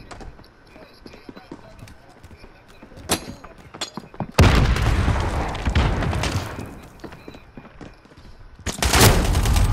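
A sentry gun in Call of Duty: Modern Warfare opens up after scattered shots, unleashing a loud, continuous rattle of automatic fire that pauses briefly and resumes, with a voice talking over it.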